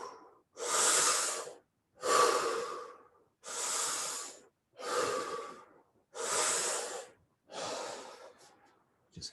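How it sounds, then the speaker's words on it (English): Six deep, slow belly breaths during a guided breathing exercise, each a long, loud airy rush separated by short silences, close to the listener and evenly paced. "Breathe deeper and deeper."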